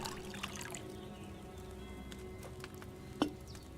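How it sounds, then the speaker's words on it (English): Wine trickles into a cauldron in Kingdom Come: Deliverance II, a faint, thin pour that runs under a quiet background and ends in a brief clink. "So, what did you pour in there? Wine."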